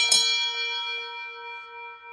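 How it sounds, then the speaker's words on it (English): A single lunch bell is struck once, a bright clang followed by a clear, sustained ringing tone that slowly fades. "That's the lunch bell."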